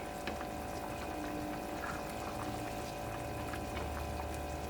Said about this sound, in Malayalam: ഇപ്പൊ നമ്മുടെ സൂപ്പ് നന്നായിട്ട് തിളച്ചിട്ടുണ്ട്